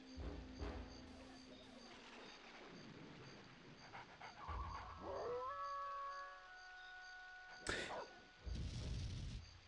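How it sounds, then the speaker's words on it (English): Lupus the dog howling in the video game Jet Force Gemini, a single faint rising howl amid panting and game sounds, with short bursts of noise around it. "I'm wondering if Lupus's howl has any impact on the headstones."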